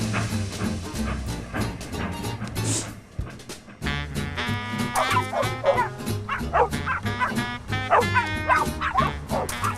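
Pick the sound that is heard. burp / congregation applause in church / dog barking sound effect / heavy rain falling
dog barking sound effect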